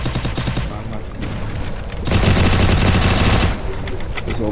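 Rapid automatic gunfire from the Free Fire video game rattles in dense bursts, loud and continuous, with a louder volley in the middle of the sequence.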